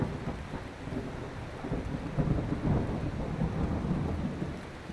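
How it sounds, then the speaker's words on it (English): Loud, rolling thunder clap with steady rain over five seconds, the rumble swelling toward the middle and lingering without fading out. "that was a loud clap of thunder right there"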